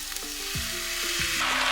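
Chicken stir-fry noodles with vegetables frying in a hot pan, a loud continuous sizzle with scraping stirring strokes, close up and without talk.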